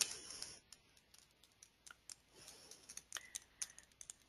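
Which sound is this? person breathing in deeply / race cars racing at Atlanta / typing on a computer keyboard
typing on a computer keyboard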